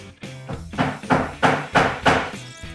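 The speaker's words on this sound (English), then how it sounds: "And go ahead and drive your nails." Steady hammer blows drive nails into plywood for a birdhouse, five solid knocking strikes at an even rhythm, each about a third of a second apart, close and clear with no talk.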